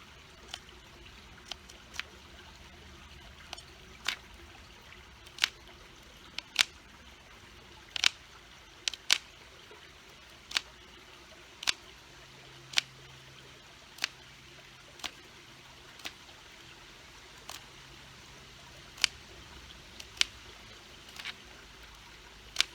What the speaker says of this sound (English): I'll cut it down and then I'll grind it with the other stone.